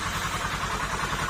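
A motorcycle engine, noisy from running on the wrong oil, idles with a steady, continuous rumble, close and fairly loud.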